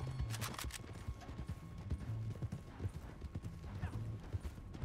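Horses' hooves clip-clop in a steady, moderately close rhythm in Red Dead Redemption 2 Online, with a faint ambient hum and a few brief sharper sounds over the plodding gait.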